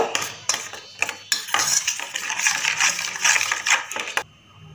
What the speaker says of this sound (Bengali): এখন আমি মিশ্রণটা ভালো করে মিক্সড করে নেব